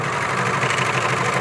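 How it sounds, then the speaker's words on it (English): A serger overlock machine stitches a single layer of fabric with a steady, loud mechanical whir and vibration, close up and without talk. "And continue serging so that you can have a tail on both the fabric and the serger."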